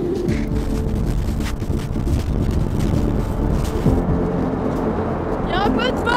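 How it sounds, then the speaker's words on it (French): Wind gusting steadily during a snowy walk, a constant rough roar buffeting the microphone throughout, with a brief voice near the end. "Il y a un peu de vent."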